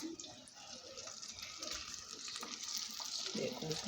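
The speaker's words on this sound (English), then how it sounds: "it's frying away in the oil." Steady sizzling and crackling of a blooming onion frying in hot oil, with soft bubbling and a few faint clinks, continuous throughout.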